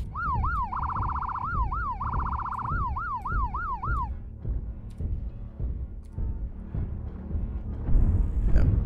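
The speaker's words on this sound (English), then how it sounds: "It has a cop siren. I can even turn this thing on." A police-style siren fitted to a light mech in MechWarrior Online wails in rising and falling sweeps for about four seconds and then cuts off, leaving low rumbling engine and game noise underneath.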